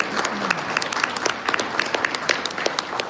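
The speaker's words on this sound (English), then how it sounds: "So let's give God Hussein a round of applause." A round of applause from guests at a CAIR Minnesota banquet, many hands clapping in a fairly close, lively crowd, with individual claps standing out sharply over a steady wash for about three seconds.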